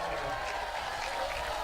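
A crowd of about 1,500 at an evening baseball game between the Hamilton Cardinals and Brantford cheers and claps after a strikeout, a brief, steady roar of mixed voices.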